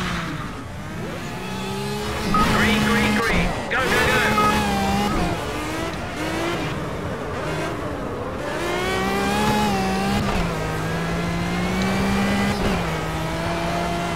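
Pagani Zonda R race car engines in a Project CARS night race, loud high-revving roars rising and falling through gear changes, with other cars whining nearby and occasional tire squeal.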